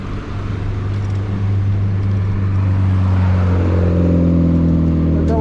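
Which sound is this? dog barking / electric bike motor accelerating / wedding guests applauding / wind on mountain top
electric bike motor accelerating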